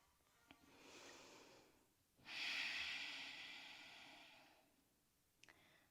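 A person lying in the yoga relaxation pose shavasana takes a long, deep breath: a softer inhale, then a fuller, louder rushing exhale that fades slowly, with faint breath clicks at the start and end.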